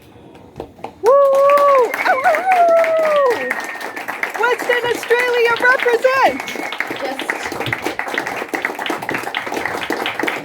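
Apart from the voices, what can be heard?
audience clapping welcoming poet to stage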